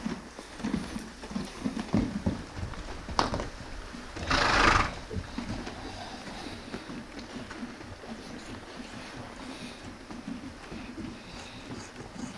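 Kyrgyz chaar horses, a spotted Appaloosa-type breed, give one loud, close neigh in the middle amid scattered hoof clops and shuffling, with quieter outdoor sounds before and after.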